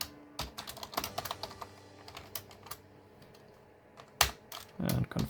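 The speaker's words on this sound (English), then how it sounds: "so now we punch in a root password" Keys tap on a computer keyboard while a root password is entered during a VMware ESXi 8 installation: an uneven run of close, crisp keystrokes with short pauses and a heavier key press near the end.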